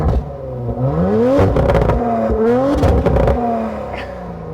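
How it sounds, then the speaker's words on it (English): A 2019 Audi RS4 with sports exhaust in sports mode is revved hard twice in quick succession up close. Each rise ends in a loud roar, then crackles and burbles as the revs fall back to idle. "if you put it into sports mode"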